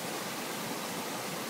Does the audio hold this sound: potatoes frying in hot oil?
no